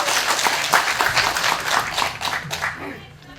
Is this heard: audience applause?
yes